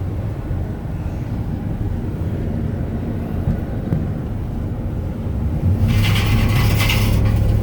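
A truck engine idles steadily while warming up, a constant low rumble close to the microphone that thickens slightly toward the end.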